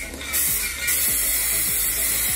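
A steady spray-paint can hisses continuously, lightly coating a Dollar Tree vase, close and fairly loud, with a brief pause partway through before the spraying resumes.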